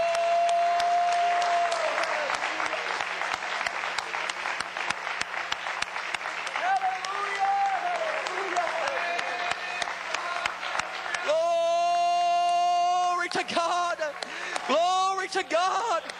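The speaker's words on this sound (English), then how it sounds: "Would you clap your hands unto the Lord?" Church congregation clapping hands in praise at a Pine Bluff service, steady dense clapping throughout with music and voices underneath, and singing or speech rising near the end.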